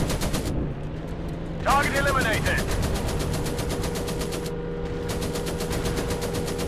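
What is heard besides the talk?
rear gunner machine gun firing in WWI plane video game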